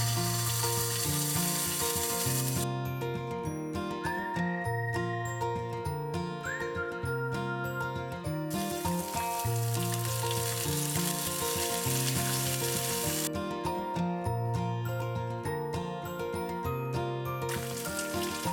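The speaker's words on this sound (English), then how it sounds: "pan fried pork belly on both sides" Pork belly pan-frying in a pan for a miso pork dish, a steady loud sizzle running throughout with music playing over it.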